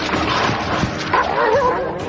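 Jody, a dog prone to aggressive trances, barks and yips loudly and close, in rapid harsh bursts over a noisy, crowded background.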